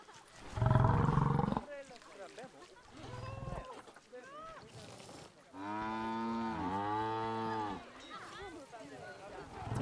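Zoo animals in the Planet Zoo video game giving loud, drawn-out, cow-like mooing and bellowing calls, several long harmonic bellows that rise and fall, close and prominent.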